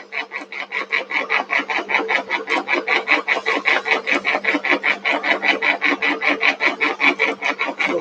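A single-phase Agrineer pellet mill presses cottonseed cake and maize into feed pellets, giving a fast, even rasping pulse, several strokes a second, loud and close with a faint steady hum underneath.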